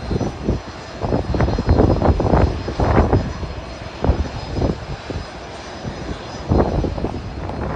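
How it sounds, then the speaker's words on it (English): A United Express airliner's engines run at Burlington International Airport before taxiing, a loud close rumbling whine that rises and falls in surges, with no one talking. "And there's United Express 3794 getting ready to taxi for takeoff."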